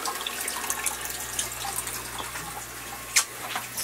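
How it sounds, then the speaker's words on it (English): A pump pushing aquarium water out through a green hose while draining a 72-gallon bow-front tank in a fish room, a steady close rush and splash of flowing water with occasional small drips, running without a break. "the pump goes into the green hose right now, which is draining my 72 bow front"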